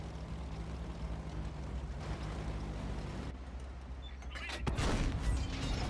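Artillery fire in the World of Tanks console game, a dense rumbling game soundscape with a sharp loud burst near the end as a shell lands and misses, over continuous low engine drone.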